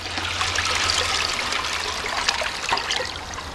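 A 2009 Mancesa Belair toilet flushes with a plastic bag in the bowl, giving a steady rushing, trickling wash of water with a few gurgles and splashes near the end, close and moderately loud.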